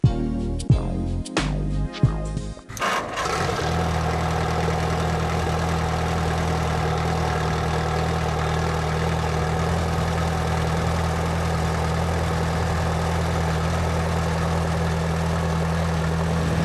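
Tractor engines idling at an agricultural fairgrounds tractor show and sale: after a few knocks and a brief burst, a steady low rumbling drone holds evenly and fairly loud, with no talking.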